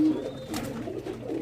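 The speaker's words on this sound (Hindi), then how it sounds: "बहुत आला कबूतर है" A champion pigeon coos close by, a soft low throaty warble rolling on for the whole moment over faint room noise.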